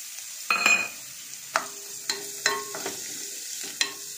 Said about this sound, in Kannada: ನೋಡಿ, ಈರುಳ್ಳಿ ಸ್ವಲ್ಪ ಫ್ರೈ ಆಗಬೇಕು